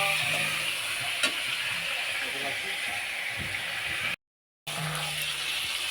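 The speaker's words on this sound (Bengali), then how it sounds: "মাংসটা ভাজা হয়ে গেছে" Skin-on chicken pieces frying in a pan give a dense, even sizzle with steamy hiss and a few stirring clicks, broken by a short silent gap near the end.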